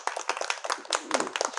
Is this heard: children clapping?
yes